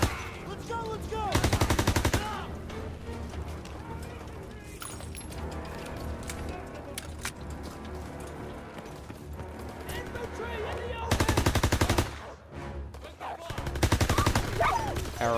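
Rapid bursts of gunfire in the World War II shooter Call of Duty WW2, loud clustered volleys at the start, near the end and toward the close, with continuous game noise and a voice talking in between.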